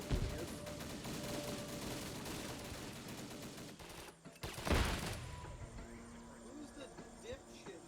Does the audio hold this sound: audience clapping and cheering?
no